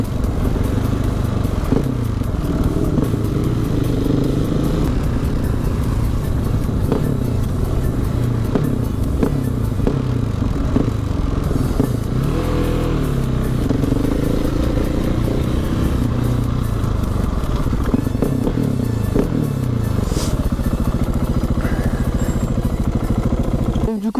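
2016 KTM 690 SMC R supermoto with a single-cylinder engine running loud and close, a steady throbbing drone with slight revving swells throughout and no talking.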